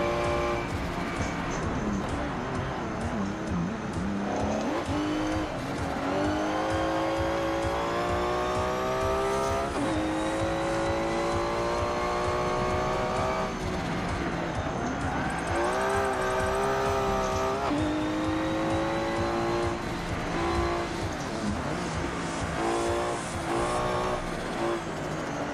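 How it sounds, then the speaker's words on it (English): A Porsche and an IndyCar racing in the Forza 7 video game, with loud continuous engine whine climbing and dropping through gear changes, plus revving and occasional tire noise, constant and up close. "That's a quick Porsche, actually, if he's actually able to keep up to an IndyCar."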